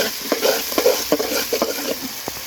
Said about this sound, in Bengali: পেঁয়াজটা একটু লাল লাল করে ভেজে নেব